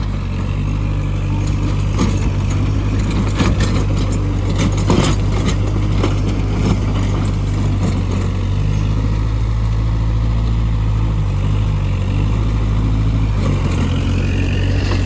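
A tractor pulling a 36-blade Lemken rotavator reverses in third gear, its steady mid-pitched diesel drone running continuously and close throughout with some mechanical clatter, and no talk.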